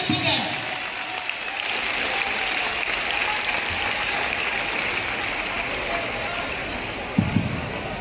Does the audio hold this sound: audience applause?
yes